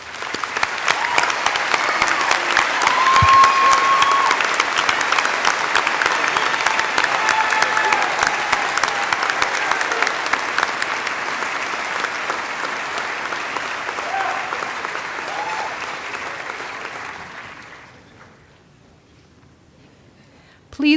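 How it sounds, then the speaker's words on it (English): A large commencement audience applauds honors graduates at a spring ceremony, dense sustained clapping lasting well over fifteen seconds before fading away, with faint voices in the crowd. "join me in applauding these outstanding students"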